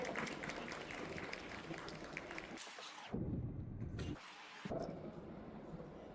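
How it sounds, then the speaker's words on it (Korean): An audience at a seminar talk applauds in a dense, steady wash of clapping, broken by two short cuts, fairly quiet overall. "모두 큰 박수 부탁드리겠습니다."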